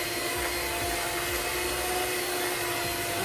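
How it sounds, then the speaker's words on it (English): Electric hand mixer running at speed 2 while making chocolate and mango ice cream, a loud, steady motor whir with constant high-pitched hum, no talking. "Una, gawin natin number 2 ng ating hand mixer."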